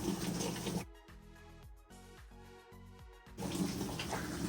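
Warm water pouring into a Maytag washing machine, a steady close rush of flow that briefly drops away to a quieter mechanical hum and clicks before the rushing water returns.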